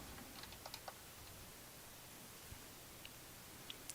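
Light, quick keystrokes on a computer keyboard, scattered soft clicks at a quiet level against faint background hiss.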